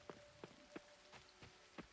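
Rain in the Coral Island farming game patters faintly as a few separate drops, each a soft tick spaced about a third of a second apart, over a quiet background.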